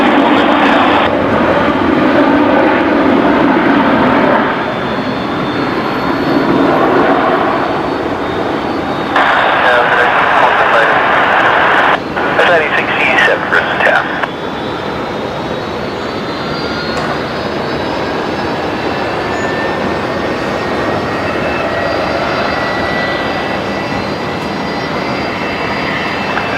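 Airliner taking off from runway 19 left at Brisbane Airport at sunset, a loud, sustained jet engine roar that slowly fades into the distance, with faint radio chatter and a whine rising over it.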